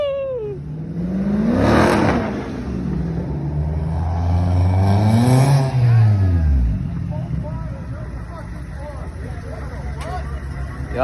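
A Porsche at a car meet revs up loudly twice, each engine swell rising and falling before fading, while people talk and cheer nearby.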